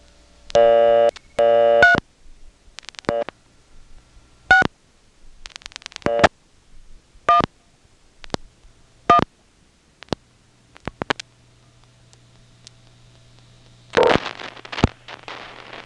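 A call to 3611 through an independent step-by-step telephone exchange: a run of clicking dial pulses and switching clunks, then short repeated tone bursts at intervals, ending in a burst of noisy line clatter.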